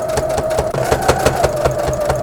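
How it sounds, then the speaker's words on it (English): A sewing machine topstitches along the edge of a fabric hat band, a close, loud rapid chatter of needle strokes running steadily with only a brief hitch. "I'm gonna do top stitching at the edge of the band"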